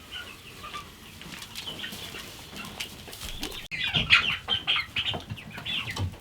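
Chickens cluck inside a coop on a farm, with scattered soft clucks at first, then a louder, busier run of close clucking and squawks in the second half.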